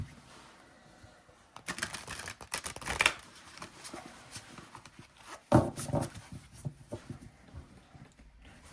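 An oracle card deck is shuffled by hand in a quiet room, giving soft papery riffles and slides in a couple of short bursts with some light handling clatter in between, faint and close.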